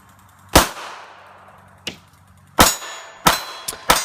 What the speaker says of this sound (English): Firing a few rounds here just to show the gun does work.